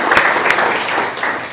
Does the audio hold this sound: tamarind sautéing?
no